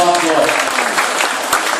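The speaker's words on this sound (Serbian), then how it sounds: "Da je podržimo malo aplauzom" Brief burst of clapping from a group at a dance exam, fairly close and steady, with a voice speaking briefly at the start.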